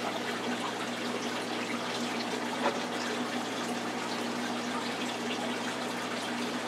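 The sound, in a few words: running water of garden waterfall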